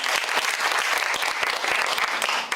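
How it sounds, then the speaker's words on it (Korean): Parents in a school audience applaud together at a school visit event, a dense, sustained burst of clapping at an even level throughout. "박수 한번 주세요."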